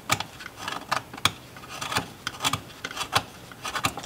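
Carpenter's pencil lead being sharpened by hand, a string of short, dry rasping scrapes in an irregular rhythm, close and fairly quiet, with no voices.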